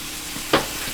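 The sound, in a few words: cheese steak meat and cheese sizzling in pan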